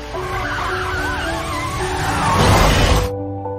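A car in a film skids with loud, close tire squeals that warble and rise into a harsh rushing screech before cutting off abruptly, leaving a low hum.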